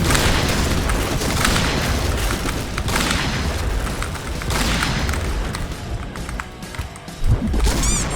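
Grenade blasts in the Point Blank shooter game: loud booming explosions and crashes fill the scene continuously, with heavy dense rumble throughout and a sharp extra burst near the end.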